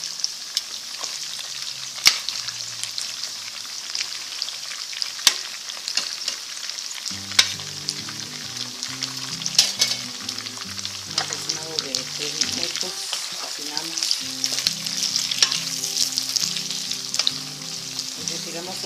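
Poblano pepper strips frying in a pan with bacon and longaniza: a steady close sizzle and crackle with occasional stirring scrapes, while music plays underneath for the second half.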